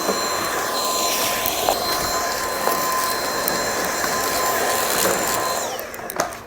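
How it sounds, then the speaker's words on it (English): A vacuum cleaner runs steadily over the top of a Winix air purifier, giving a continuous loud whirring roar with faint tonal whines that holds throughout and eases off near the end. "grab your vacuum and start vacuuming the top"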